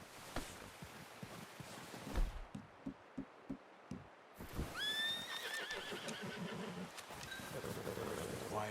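A horse in Red Dead Redemption 2 gives a loud, rising whinny after a run of separate hoof-like thuds, then snorts and neighs over a steady background rumble.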